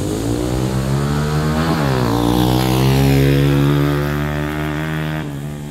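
A motorcycle engine runs steadily up close and loud, its pitch rising and falling slightly as it revs, with no voices over it.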